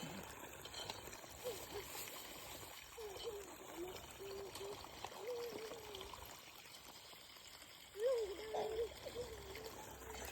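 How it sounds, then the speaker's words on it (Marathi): Water runs from a village tap as a faint, steady trickle under quiet background noise, with soft speech-like voices at moments. "आणि बघा पाणी पण चालू केलंय."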